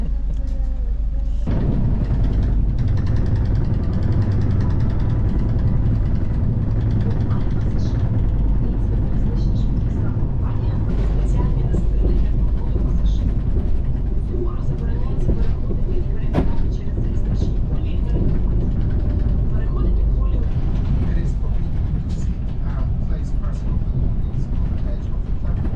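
Steady rumble of a moving first-class Ukrainian passenger train, a continuous low roar with faint voices underneath.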